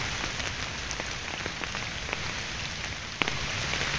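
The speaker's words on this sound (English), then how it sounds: "it's not raining extremely heavily right now" Steady rain pattering on a surface, a dense continuous hiss of drops, fairly close, with one sharper drip near the end and no talking.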